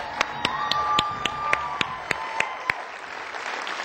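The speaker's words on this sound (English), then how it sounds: "Let's hear for Frank." Audience applause at a CES launch party for a mobile hotspot, a dense steady clapping from a crowd with a few sharp individual claps standing out, sustained throughout.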